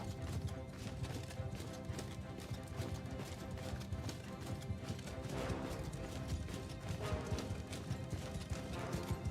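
Constant hooves clip-clopping from a galloping horse in the video game Mount & Blade II: Bannerlord. The hoofbeats run loud and dense through the whole clip, mixed with battle clatter and a faint whinny.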